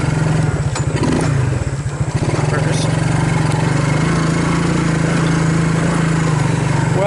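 The engine of a Suzuki KingQuad ATV being revived runs loud and close, a steady buzzing idle with rhythmic revving pulses early on, then a sustained drone.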